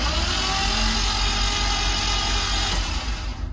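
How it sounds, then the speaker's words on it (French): The starter motor cranks a BMW E30 fitted with a 3.0L M54B30 engine, a loud, steady mechanical churning that runs throughout and fades slightly near the end, with no talk. "le démarreur tourne"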